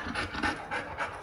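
A dog pants in quick, steady bursts close to the microphone, a breathy rhythmic rasp repeating about every quarter second with no talking.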